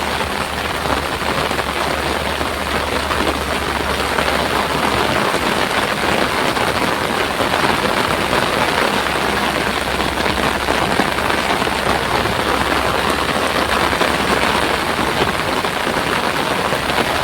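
A heavy downpour drums steadily and close for a long unbroken stretch, with a low hum running beneath the rain at times and no one talking.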